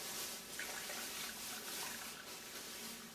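Water is emptied out of a leaking electric kettle during a home repair. It makes a steady, faint splashing and trickling rush that runs continuously and evenly the whole time.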